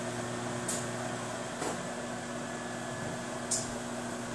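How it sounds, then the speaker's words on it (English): A microwave oven runs with a steady electrical hum and faint whir, broken by a few soft clicks or taps, heard close and alone. "You're going to take these and put them in the microwave for a minute."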